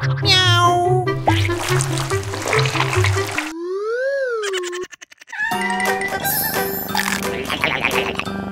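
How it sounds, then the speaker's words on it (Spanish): A cat meows in a children's challenge game, its calls mixed in with playful boing and ding sound effects and a brief gliding tone before the clip ends. "Un gato."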